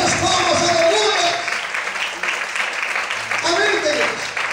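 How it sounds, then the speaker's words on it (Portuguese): A church congregation claps in a dense, continuous burst of applause while a preacher's voice carries loudly over it. "Mais forte as palmas, aleluia."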